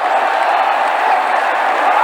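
Cricket stadium crowd at an Australia versus South Africa Test roaring after a big six, a loud continuous wash of cheering with no distinct breaks.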